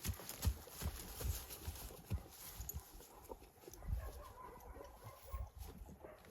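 A heavy draft mare walks outdoors on a farm, her hooves clip-clopping in an irregular rhythm at low level, with faint farmyard sounds around her.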